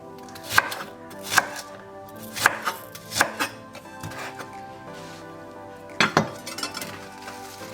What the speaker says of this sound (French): Nous découpons aussi l'oignon.